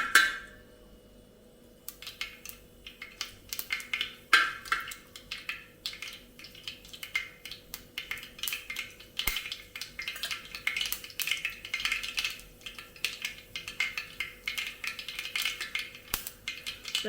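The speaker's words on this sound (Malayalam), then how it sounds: "കടുക് ഒന്ന് പൊട്ടി വരട്ടെ." Mustard seeds splutter in hot oil in a pan, producing a dense stream of sharp, crackling pops close by that grows busier after a quiet opening, with no speech over it.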